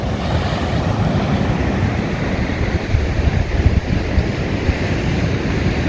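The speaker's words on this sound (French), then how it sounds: "on entend fort les vagues" Steady surf roars as waves wash onto a beach in Cartagena, Spain, with heavy wind buffeting the microphone throughout.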